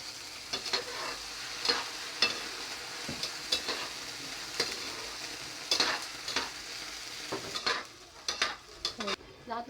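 Sardines sautéing in a hot pan, a steady bright sizzle broken by repeated scraping stirs and clinks of a utensil against the pan, close and fairly loud throughout.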